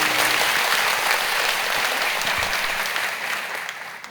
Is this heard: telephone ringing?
no